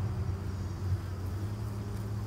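Gentle honeybees in an opened hive box on a mild morning, a soft continuous low buzzing hum from many insects close by, steady throughout with no talking.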